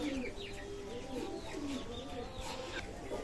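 Pakistani teddy pigeons coo softly and steadily at close range, with low warbling calls repeating over a constant background hum and a few faint chirps.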